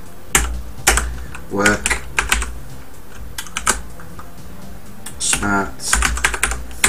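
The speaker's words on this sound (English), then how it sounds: "and in here we need to type cd" Keys clack on an Amiga computer keyboard as shell commands are typed, a quick irregular run of close, crisp keystrokes in short bursts, interleaved with a voice speaking.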